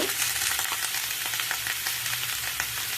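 Onions or vegetables sautéing with salt and asafoetida for a wedding-style sambar, a loud continuous sizzle up close with scraping stirs of a spoon through the pan and no voices.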